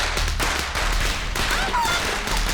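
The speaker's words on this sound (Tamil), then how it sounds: "பட்டாசு வச்சிருக்கான்" Firecrackers go off in a rapid, loud string of sharp cracks close by, a dense crackling run with short gaps, while voices shout faintly underneath.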